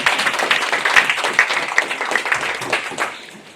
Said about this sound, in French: Je voudrais qu'on l'applaudisse pour cette collaboration